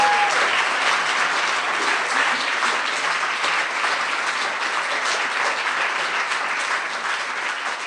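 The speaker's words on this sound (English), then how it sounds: "Let's give a round of applause to our graduates." Loud, sustained applause from an audience at a graduation ceremony for a journalism program's graduates, a continuous even roar of clapping that holds steady throughout with little voice.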